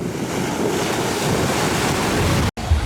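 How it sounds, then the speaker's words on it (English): Wind roars over choppy ocean waves at CocoCay in the Bahamas in a continuous, loud wash of noise that cuts off briefly near the end. "So it's windy and choppy, so there's definitely more waves than normal"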